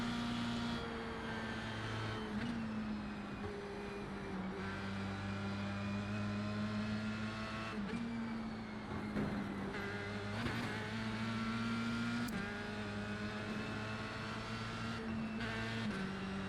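Formula 3 race car engine in a video game at the Nordschleife, droning steadily with the revs dropping and shifting as the driver lifts off the throttle, several brief gear-change dips breaking the continuous whine.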